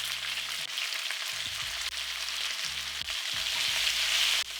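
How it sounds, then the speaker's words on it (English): Vegetables with starch, salt and black pepper hit hot avocado oil and sauté in a loud, continuous sizzle close up, with brief shifts as the pan is stirred and no talking. "Once the oil comes to temp, add all the vegetables, starch, salt, and black pepper."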